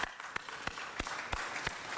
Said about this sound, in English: and so I just want to give them applause